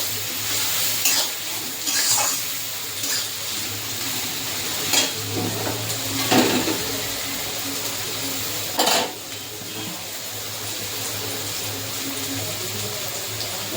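Salted onions sizzle in a pan as the base for chicken kosha, a steady close frying hiss broken by a few clinks and scrapes of a utensil stirring against the metal.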